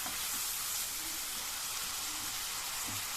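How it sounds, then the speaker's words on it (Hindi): Ginger garlic paste sizzles and fries hard in a kadai on high flame, a steady, dense crackling hiss running unbroken throughout with faint stirring scrapes. "2 टेबलस्पून ऑफ जिंजर गार्लिक का पेस्ट जो है उसको हम इसमें ऐड कर देंगे और 30 सेकेंड्स के लिए भून लेंगे"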